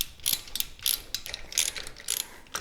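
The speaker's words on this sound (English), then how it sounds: "I got my stubby wrench and then a 5/16 hex head here." Stubby ratcheting wrench with a 5/16 hex head loosening a coil bracket bolt on a Harley Sportster, several quick bursts of close ratchet clicking with short pauses between.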